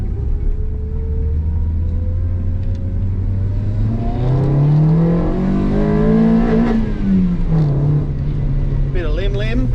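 A Honda Civic EK with a D16 engine and a pod filter revving on a quiet street. The loud, close engine note climbs sharply, holds, then falls back.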